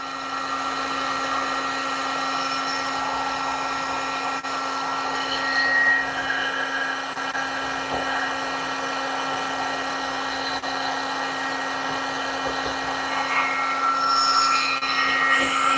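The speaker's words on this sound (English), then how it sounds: "I am powder coating lure heads." A powder coating gun sprays jig lure heads with a steady, unbroken airy hiss and electric whine. The hum holds an even level throughout, with no talking.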